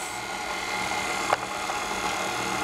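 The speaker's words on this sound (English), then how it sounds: "Lock down the KitchenAid and put it on mix." A KitchenAid stand mixer mixing dough whirs steadily at close range, a continuous mechanical hum with a brief knock partway through.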